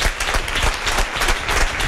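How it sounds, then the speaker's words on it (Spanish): Audience applause at a party event, a continuous close-up roar of many hands clapping with no voices on top, steady throughout the short stretch. "Un aplauso para él"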